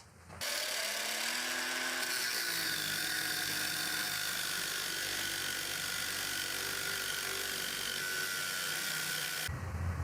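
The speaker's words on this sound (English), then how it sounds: "I'll find some more scrap steel and cut a second one." Scrap steel being cut for DR650 motorcycle pannier racks, a sustained, loud, even grinding whine that starts abruptly and runs without a break almost to the end.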